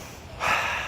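A single deep inhale through the nose, close and breathy, rising sharply into a sustained rush of air after a quiet moment, heard alone.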